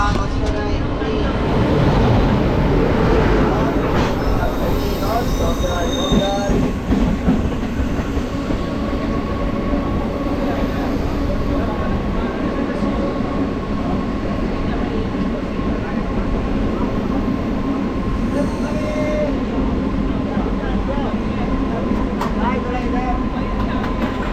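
The Howrah–Yesvantpur Express runs past in a long, loud, continuous rush of wheels and carriage rumble, with rhythmic clatter and wind noise close by throughout.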